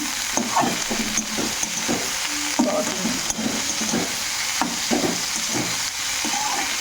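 A sauce of dried chillies cooks over a high flame, giving a steady, fairly quiet sizzle broken by repeated scraping stirs of a utensil.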